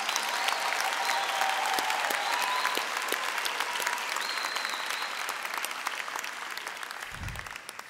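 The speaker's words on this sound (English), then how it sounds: "let us give the graduates a big hand for their hard work and perseverance" A graduation audience claps for the graduates at a university autumn ceremony: a thick, sustained wash of many hands at even strength, gradually easing toward the end, with faint voices or whistles drifting through the crowd.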